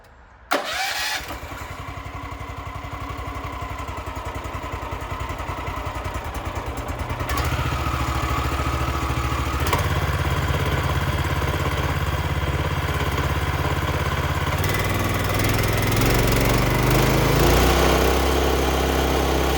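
A Kohler 14 HP engine on a Power King 11-inch commercial stump grinder, electric-started on four-stroke fuel, catches almost immediately with a sharp burst. It then settles into a steady, loud, close running drone that rises a bit partway through, with no voices.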